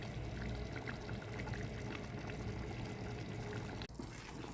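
Water poured into a cooking pot of chicken, a steady continuous pouring wash that is fairly quiet and close, with one brief dip near the end and no talk.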